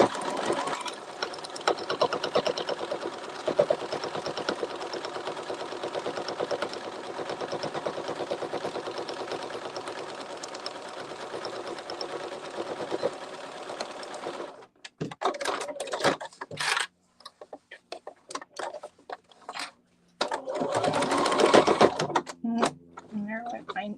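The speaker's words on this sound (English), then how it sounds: "I'm going to stitch both sides here." A home sewing machine stitches both sides of a seam in a steady, fast whirring run for about fifteen seconds, then stops and restarts in short bursts between pauses.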